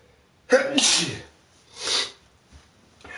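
A person fighting a cold and a stuffy nose sneezes sharply and close up, then lets out a smaller second sneeze, and a third begins at the very end.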